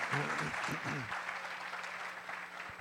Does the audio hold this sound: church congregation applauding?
yes